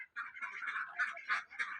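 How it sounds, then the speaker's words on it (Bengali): A duck quacks in a quick run of nasal calls with short gaps between them. The calls are fairly faint, as if from a little way off outdoors, and no talk is heard over them. "তুমি হাঁসের শব্দও পাচ্ছ"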